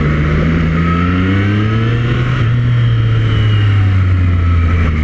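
Triumph Street Triple 765RS motorcycle engine pulls steadily in a low gear on a town street full of speed bumps, a loud close droning note rising and easing slightly, with no voices.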